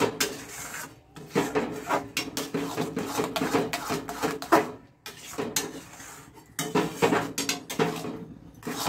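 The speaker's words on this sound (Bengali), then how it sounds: "এখন এই আমের পাল্পটাকে পুরোটা এর মধ্যে সুন্দর করে মিশিয়ে নিচ্ছি।" A utensil stirs mango pulp into halwa in a pan, scraping and rubbing against the metal in repeated strokes with brief pauses between them, close up and with no voices.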